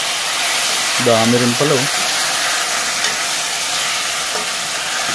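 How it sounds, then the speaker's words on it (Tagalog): Black meat tuna hits a pan of sautéed garlic, onion and ginger, giving a steady broadband sizzle throughout, with a short stretch of speech partway in. "Isunod na natin ang ating black meat tuna."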